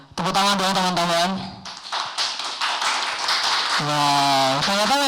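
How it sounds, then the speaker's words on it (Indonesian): A small group in a podcast studio breaks into quick clapping. Bright, close claps are bracketed by drawn-out voiced whoops and cheers before and after. "tepuk tangan dong teman-teman"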